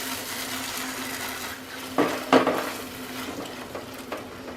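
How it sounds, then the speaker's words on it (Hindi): Malai kofta gravy with tomato puree sautéing over a low flame in a pan, a steady soft sizzle with a couple of louder scraping stirs near the middle, close and alone without talk. "लो फ्लेम पे 5 मिनट सौते करेंगे।"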